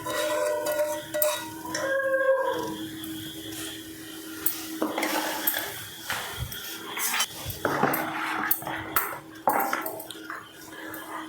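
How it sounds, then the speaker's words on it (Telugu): Metal spoon clinks and scrapes against a bowl while chopped ginger, green chillies, cumin and mustard seeds are stirred into ragi flour batter, intermittent close clatter with quiet pauses. "వీటిని పిండిలో వేసుకొని కలుపుకుందాం"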